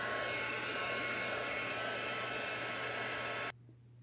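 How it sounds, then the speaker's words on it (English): A craft heat tool blows over damp watercolor paper, a steady, close whooshing hum that runs evenly for several seconds and then cuts off abruptly, leaving near silence. "Hope you don't mind me running my heat tool. I'm just going to run it over this real quick."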